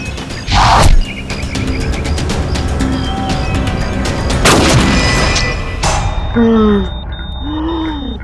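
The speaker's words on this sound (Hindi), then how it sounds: "फायर किसने किया? गोली किसने चलाई चेतन?" Gunfire in a CID crime TV episode: two loud, sharp gunshot blasts ring out a few seconds apart over a tense background, and voices follow near the end.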